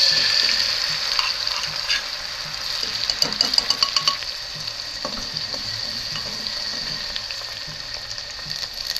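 Mustard seeds, cumin and crushed garlic frying in hot oil, a close steady sizzle with bursts of crackling pops and a few spoon stirs in the pan.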